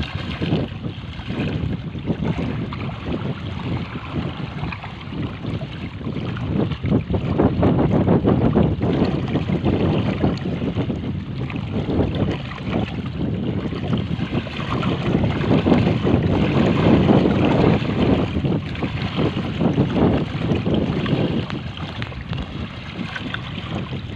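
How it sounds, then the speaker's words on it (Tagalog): Small sea waves lapping against the megadike at Malabon City, a continuous soft wash of water with gusty wind buffeting the microphone, fairly close and steady throughout. "Yan, maliliit na alon yan."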